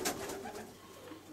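A racing pigeon in a breeding loft, sitting on its third clutch of eggs, gives a short, soft, close coo.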